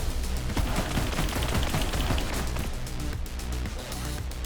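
Dense rapid automatic gunfire from the Alchemist gun in Borderlands 3, a continuous loud rattle of shots with explosive crackling, sustained without pause.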